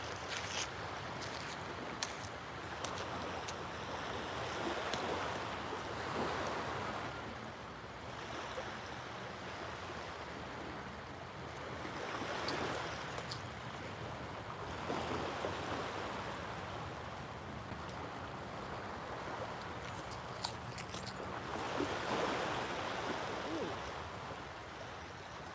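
Ocean surf rolls in with a rising tide along a rocky shore at sunrise, making a steady wash of breaking waves with periodic swells. Gusts of wind sweep through, and the sound stays broad and moderately distant throughout.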